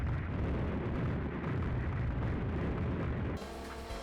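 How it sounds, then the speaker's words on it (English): Fireworks in a video game cutscene, a continuous rumbling barrage of booms and crackling bursts that stays dense and fairly loud, then drops to a thinner, quieter bed near the end. "The unskippable fireworks cutscene!"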